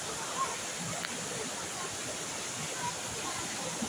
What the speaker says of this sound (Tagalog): Ayun po yung ilog.